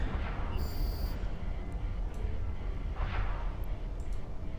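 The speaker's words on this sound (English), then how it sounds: "There's the Triglavian weapon system" Triglavian weapon systems firing in a large EVE Online space battle during a mass test, a dense continuous booming rumble with deep low-end energy and brief brighter bursts layered over it.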